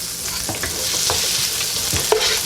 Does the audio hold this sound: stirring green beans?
yes